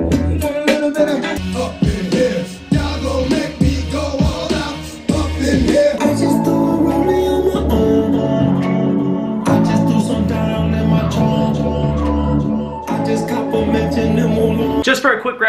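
A Mackie SRT 215 loudspeaker playing music for a sound test, heard as loud, full-range continuous playback with strong bass hits and brief dips between sections.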